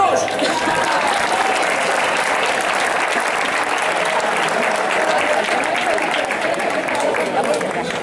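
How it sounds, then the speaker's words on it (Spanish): Outdoor crowd applauding in a dense, continuous wash of clapping, with cheering and chatter mixed in throughout. "¡Ese aplauso para ellos!"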